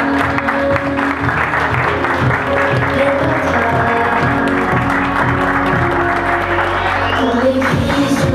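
An audience applauds for a young girl at a ceremony, dense steady clapping with light cheering over a background of music, fading toward the end.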